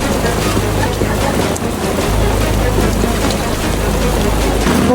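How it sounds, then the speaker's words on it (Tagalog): Heavy rain pours steadily on a tent at a campsite near the Coto Mines in Masinloc, Zambales, a dense, close, continuous roar with no pauses. "Ang lakas ng ulan."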